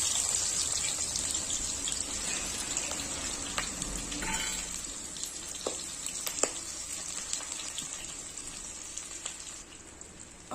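Chopped onion frying in leftover oil in a kadhai gives a steady, bright hiss that holds throughout, broken now and then by faint clicks and light stirring, with no voices.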